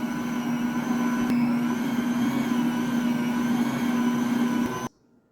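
A stand mixer on speed 2 kneads bread dough made from freshly milled flour, giving a steady motor hum with a faint knock near the start, then shutting off abruptly.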